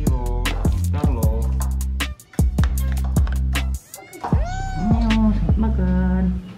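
A domestic cat meows repeatedly and loudly at feeding time, with a run of short rhythmic mews followed by longer, drawn-out rising and falling cries, some overlapping as if from more than one cat.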